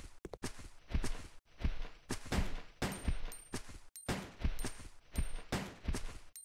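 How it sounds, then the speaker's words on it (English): Gunfire in Resident Evil Code: Veronica, a steady series of repeated shots in quick bursts, fairly close and evenly spaced, with no talking over them. "I'm just wasting bullets at this point."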